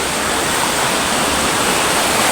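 Water rushes steadily along a river where people have come to hunt monitor lizards near a bamboo grove, a loud, continuous broadband roar with no pauses and no voices.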